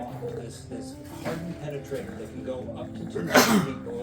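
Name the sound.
sneeze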